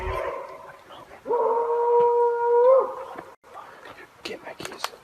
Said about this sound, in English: strange howls and eerie noises begin to echo from the woods